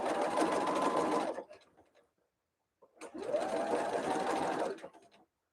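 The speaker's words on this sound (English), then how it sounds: "This machine, I am sewing on a Bernina" A Bernina 153 sewing machine stitches fabric in two steady runs of about one and a half seconds each, a fast even whir separated by a short pause, close and clear with no talk.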